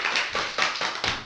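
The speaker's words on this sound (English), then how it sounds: "Let's give him a round of applause." Brief applause for a coaching-session guest: a short burst of clapping from a small group, a few distinct claps standing out, lasting just over a second with no talk.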